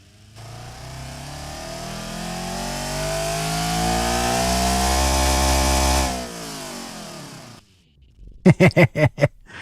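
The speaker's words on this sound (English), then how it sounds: "Sounds like a Honda 4-cylinder." A Honda four-cylinder car engine in the Automation video game revs in one long steady climb to high pitch, then cuts off abruptly, followed by a few sharp clicks.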